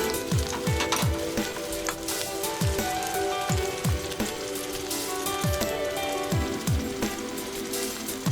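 Egg solution poured over seaweed and oysters for a crispy oyster omelette, frying in oil with a steady loud sizzle and crackle, while sharp tapping knocks recur every second or so.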